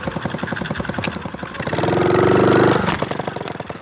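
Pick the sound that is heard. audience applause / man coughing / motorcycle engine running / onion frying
motorcycle engine running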